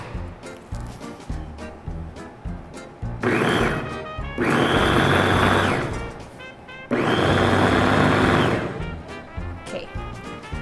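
A blender whirs through puttanesca sauce in two loud, steady bursts, each several seconds long, separated by short pauses with lighter kitchen noise before and between.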